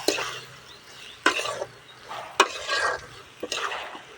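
Greens are sautéed in a pan over a wood-fired clay stove, with about four distinct bursts of stirring and scraping, each followed by a short sizzle, then quieter gaps, heard close with no speech.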